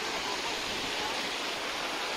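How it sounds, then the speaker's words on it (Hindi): Stream water rushes steadily toward a waterfall on the trail to Shishupal Parvat, a continuous, close, broadband flowing roar with no breaks. "ये वो पानी है जो झरने में जा रहा है सामने वाले"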